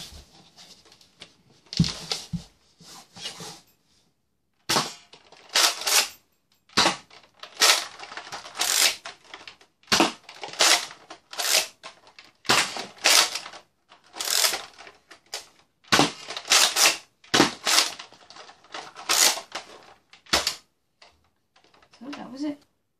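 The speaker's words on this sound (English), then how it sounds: "Fire this gun." Nerf Zombie Strike Slingfire blaster being fired and re-cocked repeatedly, a string of sharp plastic clacks and snaps in irregular bursts separated by short quiet gaps, close and fairly loud.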